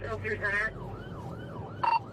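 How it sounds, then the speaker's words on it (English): Siren of a MedStar ambulance during a police chase, a wailing tone sweeping up and down repeatedly at moderate distance, partly under radio chatter and voices. "Changlin Lee, a crash victim himself, jumped into the driver's seat of a MedStar ambulance and sped off."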